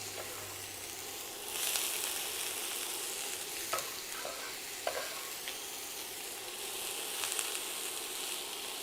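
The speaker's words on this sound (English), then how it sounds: "If it's sizzling, you know it's hot enough" Onions sizzle and crackle steadily in a hot pan over medium-high heat, close up, with a burst of louder frying and occasional stirring scrapes as they are tossed.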